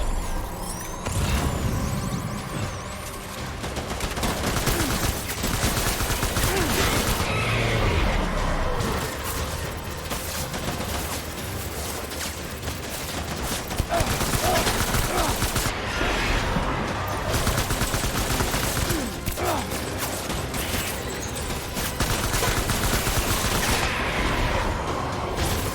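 Gunfire from the video game Death Stranding, dense rapid bursts of automatic fire layered with booms and clatter, loud and continuous throughout with barely a pause.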